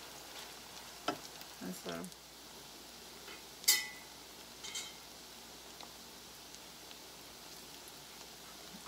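Salmon patties fry in a pan with a soft, steady sizzle, broken by a few brief clatters and one sharp scrape. A voice speaks briefly.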